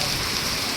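Heavy rain pours down steadily in Sonipat, a dense, even hiss of drops that fills the short moment with no voices.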